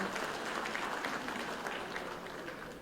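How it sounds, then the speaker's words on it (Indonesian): Audience applause for Mas Anin at a 2024 public gathering, a steady dense clapping from a crowd that holds at an even level for the whole stretch, with no voices breaking through. "Tepuk tangan untuk Mas Anin."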